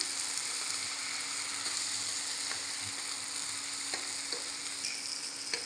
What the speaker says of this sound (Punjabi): ਤੇ ਹੁਣ ਆਪਾਂ ਮਟਰ ਐਡ ਕਰ ਦਿੰਨੇ ਆ ਮਟਰਾਂ ਨੂੰ ਵੀ ਆਪਾਂ ਝੱਸ ਲੈਣੇ ਆ